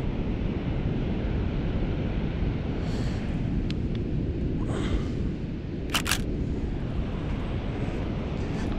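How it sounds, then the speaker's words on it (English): Huge ocean surf roars in a constant loud wash, with wind buffeting the microphone throughout and a few brief clicks and hisses above it. "Oh, the surf is huge."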